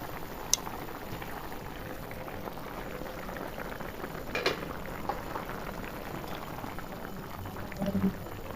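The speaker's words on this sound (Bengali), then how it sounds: "এবার ঢাকা দিয়ে একটু ফুটিয়ে নিব।" Jackfruit curry simmers in a covered pot with a faint, steady bubbling and a few soft knocks.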